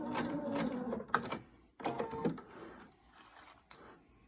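A sewing machine stitches fabric toward the edge in short mechanical bursts, with a couple of quick runs separated by pauses and no talk over it.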